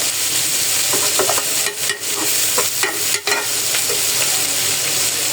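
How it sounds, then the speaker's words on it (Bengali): Karela bhaji (bitter gourd) frying in a pan gives a loud, constant broadband sizzle, broken now and then by a few soft stirring scrapes. "এই যে আমার ভাজি রান্না হচ্ছে"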